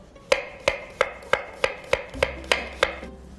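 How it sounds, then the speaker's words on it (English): A knife thinly slicing a vegetable on a cutting board, nine crisp evenly spaced chops about a third of a second apart, close and clear with no talking. "Take off the end and then thinly slice it."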